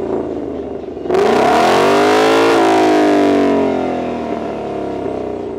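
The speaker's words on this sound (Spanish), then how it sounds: "esperando escuchar la furia de 760 caballos de fuerza en acción" A Ford Mustang Shelby GT500 with a 760-horsepower engine roars up from idle into a loud, sustained rev that climbs in pitch and then eases back to a steady rumble, close by with no talk.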